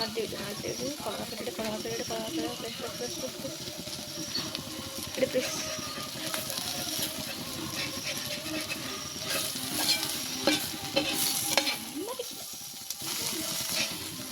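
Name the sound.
frying and stirring chicken gravy masala in a pan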